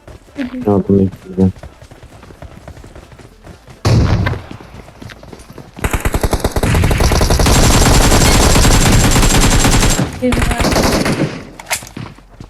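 Loud automatic gunfire from a PUBG Mobile match, with short bursts early on and then long sustained rattling fire in the middle, mixed with game effects and a voice talking in between.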